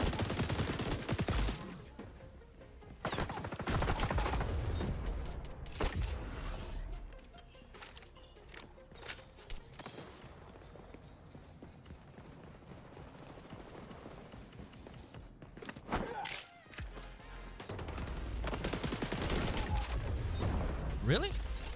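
Gunfire from the online shooter XDefiant rattles in quick bursts and scattered single shots, with louder volleys at the start and end and people talking over the action in between.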